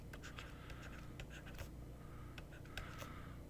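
Chalk or marker scratching out equations on a board in quick, short strokes and taps, faint and close against a steady room hum, with no voice over it.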